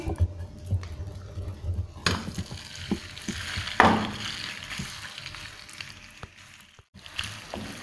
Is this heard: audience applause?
no